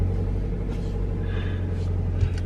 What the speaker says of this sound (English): press the clutch and the brakes and then start the engine again